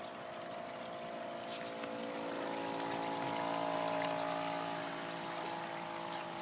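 A homemade model boat with an engine and a cooling system runs at full speed across water, giving a steady, fairly faint motor whine with a strong hum that swells and then eases as it passes, with no talking.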